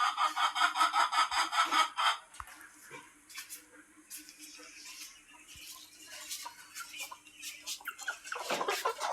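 Chickens clucking and chattering as they are let out of their coop, a busy rhythmic burst of calls at first, then scattered clucks with a person's voice nearby.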